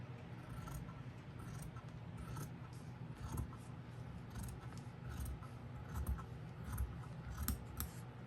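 Scissors cutting material for a handmade Christmas Santa gnome, a quiet series of repeated crisp snips and rustles at close range with no talk.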